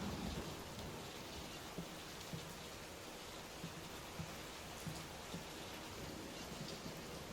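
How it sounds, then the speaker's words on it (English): Steady heavy rain pours through a storm in the horror game Layers of Fear, a dense even hiss that stays constant throughout, with faint low rumbles and small knocks beneath it and no talk. "Will this storm ever run out of rain?"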